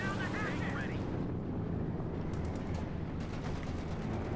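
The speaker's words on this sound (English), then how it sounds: "We got another P-47 strafing run here against the opponent." A P-47 strafing run fires on the ground in Company of Heroes 2, loud dense gunfire bursts and rumbling impacts over a constant low roar, with brief high crackles and some voices.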